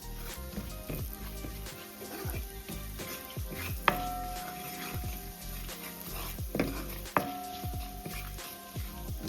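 Garlic, pimento seed and curry powder sauté in a hot pan, a quiet steady sizzle broken by scattered scrapes and clinks of stirring, with no one talking.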